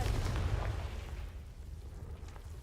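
A Confringo fire spell blast from a Harry Potter video game, a loud booming burst at the start that decays into a low rumbling tail over a couple of seconds.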